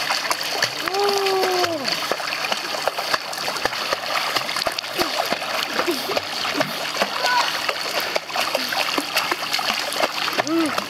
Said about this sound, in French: on va éclabousser papa avec tes pieds